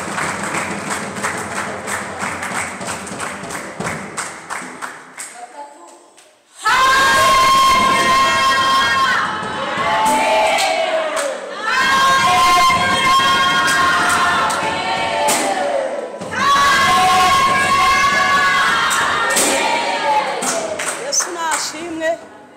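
Church congregation applauding and cheering during a service, after a stretch of speech come three long bursts of loud clapping and shouting voices with brief pauses between them.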